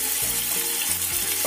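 Ground spice paste sautés in a hot pan for rice rolls stuffed with tempeh, with a steady close sizzle and a few stirring scrapes and no voices.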